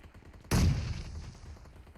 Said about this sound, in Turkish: Kim sıkıyor lan deli gibi?